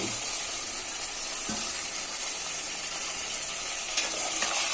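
Chicken frying in a pan gives a steady, close sizzle that runs the whole time, with a faint clink or two of utensils.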